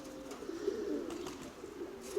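A red pigeon coos softly in a steady, throaty warble, a close run of low murmuring calls with no voices over it.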